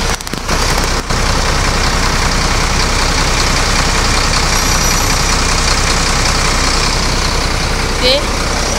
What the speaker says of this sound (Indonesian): Ya, ini sasisnya Mercedes-Benz OH1526. Ini terbilang masih bagus ya suara mesinnya.